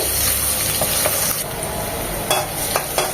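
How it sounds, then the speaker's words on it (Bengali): Chopped onion, about half a cup, frying in hot oil with whole spices for a beef curry, giving a steady loud sizzle with occasional spoon scrapes and stirring clatter. "দিয়ে দিব হাফ কাপ পেঁয়াজ কুচি পেঁয়াজটা নরম হবে"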